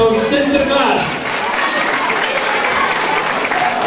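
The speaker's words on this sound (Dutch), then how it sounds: "Jongens en meisjes, hier dan nog eens een naderend applaus, Sinterklaas!" Children applaud Sinterklaas in a loud, continuous burst of clapping that holds steady throughout, with excited voices and shouts mixed in among the crowd.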